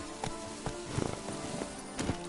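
Hoofbeats of Geralt's horse Roach in The Witcher 3: Blood and Wine, a steady run of soft clip-clop strikes at moderate distance over a low ambient game background.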